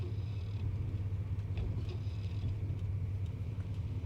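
Low steady rumble from the chassis of a 1971 Cadillac Coupe DeVille, drum brakes and a noisy pinion housing droning continuously with faint mechanical ticks above, no talking.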